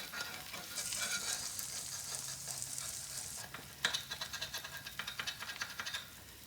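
Potatoes frying in butter on a griddle: a soft, fairly quiet sizzle and hiss that swells for a few seconds, then gives way to a faint clatter and a run of short scraping and stirring sounds.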